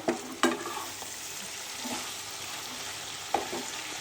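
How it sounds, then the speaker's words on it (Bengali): Steady sizzling of potatoes and vegetable stalks frying in a pan, with a few sharp clinks and scrapes of a utensil stirring. No voices. "এই দেখি আলু আর ডাটাটা ভাজা ভাজা হয়ে গেছে নাকি, খুব ভাজা হবে না।"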